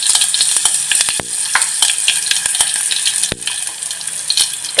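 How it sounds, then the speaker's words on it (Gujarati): Mustard seeds, cumin, asafoetida and curry leaves sizzling loudly in hot oil up close, a bright continuous crackle broken by a few sharp pops and spatters, with no voices. "તેલ નાખ્યા પછી છે ને આપણે રાઈ જીરું અને હિંગ એડ કરી દીધી છે અને આ મીઠો લીમડો એડ કરી દીધો છે"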